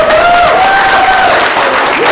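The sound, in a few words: church congregation applause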